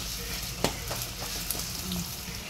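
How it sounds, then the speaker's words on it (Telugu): Onion and carrot frying in hot oil with green chillies for egg fried rice, a continuous close sizzle broken by a few sharp spatula knocks and stirring scrapes, with no speech. "పచ్చిమిర్చి వేగినాక ఆనియన్, క్యారెట్ వేసి 2 to 3 minutes వేగనివ్వాలి"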